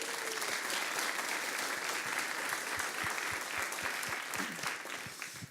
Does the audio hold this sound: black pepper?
no